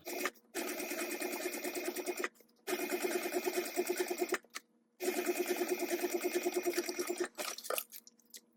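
A home sewing machine stitches through a mini backpack seam in three long rapid bursts with short pauses between, close and steady.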